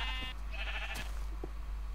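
Sheep bleating in the Minecraft Yogbox game, a short wavering bleat followed by a second quieter one, clear and close against a low steady hum.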